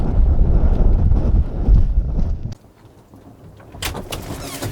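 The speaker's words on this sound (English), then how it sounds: "It's getting a little windy again." Wind gusting at a trailer in cold weather, heavy low buffeting on the microphone that suddenly drops away midway, followed by quieter rustling and some higher scraping noises.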